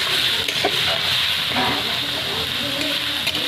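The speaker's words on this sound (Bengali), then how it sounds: "পেঁয়াজগুলো খুব সুন্দরভাবে ভাজতে হবে যাতে একদম পুরো গলে যায়" Onions fry in oil over a wood-fired clay stove, giving a close, steady sizzle with stirring scrapes and light clatter, and a faint voice just beneath.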